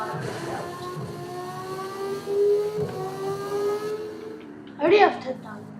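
An Audi R8 sports car in a racing video game drifts with a steady, rising engine whine and tyre skid, loud and close, with a short burst of a voice near the end.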